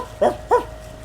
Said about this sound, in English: Arthur, will you do some of your best barking, please?